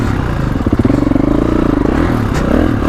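A 2021 Kawasaki KX450X dirt bike rides a woods trail, its engine close and loud with a steady throbbing note that rises and falls slightly as the throttle shifts.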